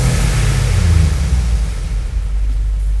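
A 2021 Lexus LM 350 MPV with a 3.5-litre naturally aspirated V6 gives a brief, loud rev that swells and then eases off, heard close without talk.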